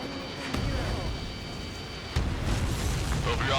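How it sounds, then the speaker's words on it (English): A missile explosion strikes a supply ship in the flight combat game Ace Combat 7, heard as heavy booming blasts, with a second loud burst about midway, over a continuous low rumble of battle noise. "The missile hit the supply ship dead on."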